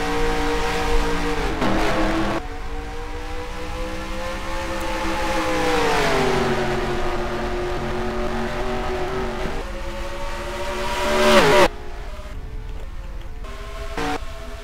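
Race cars in a racing video game roaring on a restart of the CampingWorld.com 500, a loud, sustained engine whine climbing in pitch as the cars accelerate, with several engines layered and a sharp surge near the end.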